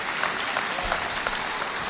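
A crowd at a political gathering applauds a visiting minister, sustained even clapping throughout at moderate loudness with a low rumble underneath.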